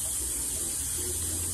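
Water runs from a tap over chickpeas in a kitchen, making a brief, steady, fairly faint rushing wash with no speech.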